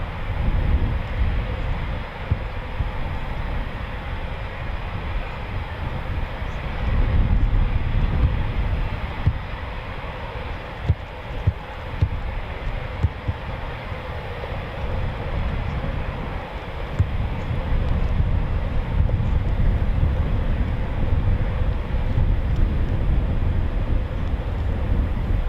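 Eurofighter Typhoon FGR4 jets flying past at RAF Coningsby, a continuous broad roaring rumble that swells and ebbs over about 25 seconds, heard from a distance with wind buffeting the microphone.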